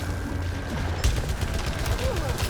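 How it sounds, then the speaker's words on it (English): Machine gun alternative fire in the video game Returnal, a burst of dense rapid shots starting about midway and continuing under low game noise and occasional voice. "that's alternative fire from the machine gun"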